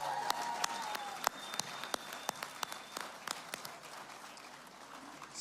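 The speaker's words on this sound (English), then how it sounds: "Another round of applause." Applause from a concert audience at a folk music awards night, with sharp individual claps ringing through a wash of crowd noise that gradually tapers off.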